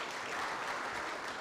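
Audience applause at the IEBC chairperson's last-day-in-office event, a dense, even burst of clapping from a crowd, continuous and fairly loud throughout.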